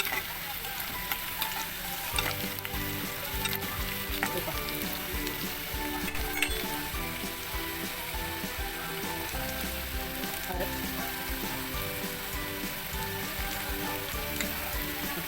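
Onion frying in a pan as turmeric goes in, a dense crackling sizzle much like rain on a surface that runs steadily the whole time, with a few faint clicks and a voice murmuring now and then in the background.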